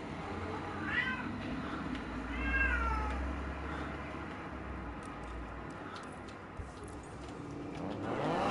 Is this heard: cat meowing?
yes